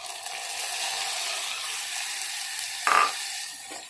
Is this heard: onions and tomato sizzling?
yes